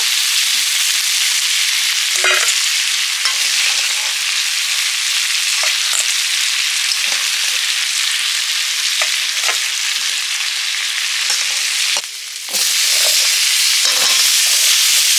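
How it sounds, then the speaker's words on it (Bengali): Oil sizzles and hisses steadily as pumpkin and potato fry in a pan, with occasional soft stirring scrapes; no voices. "ডালের জন্য মিষ্টির কুমড়ো আর আলু একটু ভেজে নিচ্ছি"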